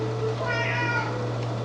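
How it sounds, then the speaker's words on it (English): A pet cat meows in a drawn-out, wavering call against a steady low electrical hum, close and clear with no talking. "I just now noticed that my cat's been meowing the whole time."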